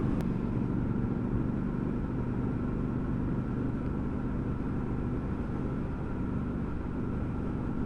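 A Triumph Scrambler 1200XE motorcycle engine rumbles in a steady, low, continuous drone, heard close and at a constant level throughout with no talking.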